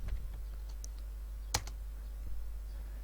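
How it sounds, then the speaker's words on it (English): A few soft, sparse keystrokes on a computer keyboard, with one sharper click in the middle, faint over a low steady hum. "so I type here the name grounded"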